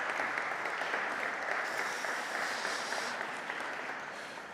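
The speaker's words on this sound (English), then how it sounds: "And you can give them a round of applause" An audience at a Commonwealth trade and investment summit gives panelists a round of applause, a dense, even clapping that fills the hall for several seconds and fades a little toward the end.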